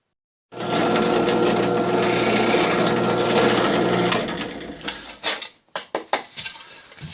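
A steady, loud mechanical whir of a drill press boring a 6 mm hole into a wooden fiddle plate, then several sharp knocks and clatters as the work is shifted.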